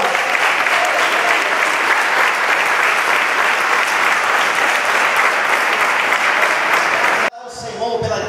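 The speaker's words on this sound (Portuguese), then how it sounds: "Vamos dar para Jesus uma salva de palmas bem forte." Church congregation applauding strongly during a missionary seminar, a dense sustained wash of clapping for about seven seconds that cuts off abruptly, followed by a voice speaking.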